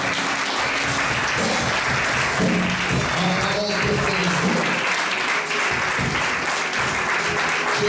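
A church congregation applauds loudly and steadily throughout, a dense continuous clapping with voices mixed in beneath it.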